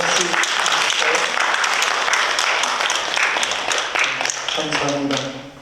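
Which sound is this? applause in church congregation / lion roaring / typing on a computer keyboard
applause in church congregation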